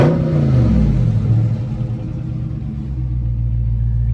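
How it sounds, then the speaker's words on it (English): A Scat Pack car with a possible mid muffler delete, parked at a Copart lot, gives a loud, deep rev that rumbles close by, then settles back to a low idle. "let's see what this thing sounds like on the rev. It does sound like it has maybe a mid muffler delete"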